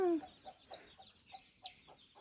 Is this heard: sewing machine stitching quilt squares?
no